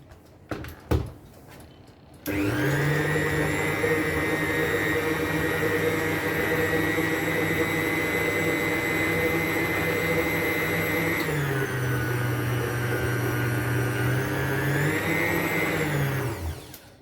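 After a few clicks, an electric mixer whirs steadily and loudly for about fourteen seconds through carrot cake batter with finely grated carrot, nuts and raisins, its motor pitch dipping briefly near the end before cutting off.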